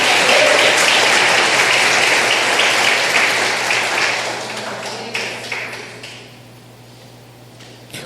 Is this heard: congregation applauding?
yes